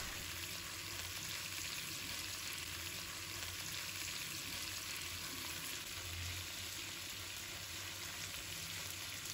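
Scallions, red chili and squid stir-fry in hot oil with a continuous, even crackling sizzle that runs unbroken throughout. Close and steady, with faint stirring underneath and no talking.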